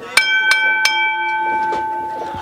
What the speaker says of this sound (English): And Sean Kelly calls for the bell.